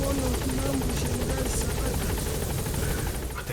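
A helicopter in Metal Gear Solid V hovers close and loud with a steady rotor thrum, unable to land at a blocked landing zone, while a voice speaks over the engine noise throughout.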